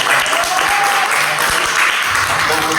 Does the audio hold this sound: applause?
yes